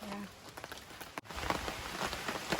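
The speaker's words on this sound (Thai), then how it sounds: "ฝนตกอีกแล้ว" Rain falls steadily at a rural Thai home near a saltwater canal, a broad continuous patter that fills the whole stretch, with a brief dip in the middle and a short low tone at the start.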